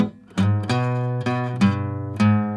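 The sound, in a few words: guitar playing a roll, second time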